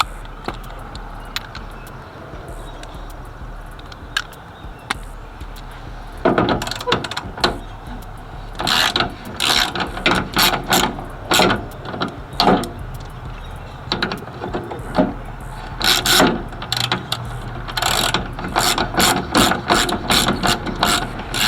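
A hand ratchet loosens the two bolts of a manual rear window regulator on a box Chevy, heard as bursts of close, rapid clicking strokes with pauses between them over a low background hum.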